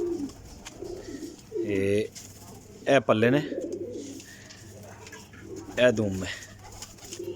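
Onion-colored domestic pigeons at a breeder's loft coo softly and intermittently beneath someone talking nearby.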